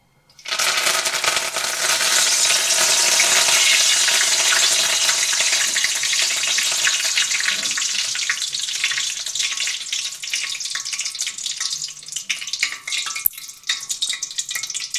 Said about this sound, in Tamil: 4-5 காம்பு கருவேப்பிலை எடுத்து வச்சிருக்கேன். இதை முதல் பொரிச்சு எடுப்போம்.